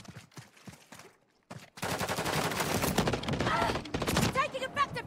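DG 58 assault rifle fire in Call of Duty MW3: after a few scattered shots, rapid bursts erupt into loud, sustained gunfire for several seconds, with a voice speaking briefly at the start.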